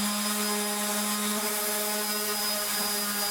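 Sanding loose paint off an old window frame, a continuous abrasive rubbing with a steady tonal whine from the power sander, close and fairly loud throughout.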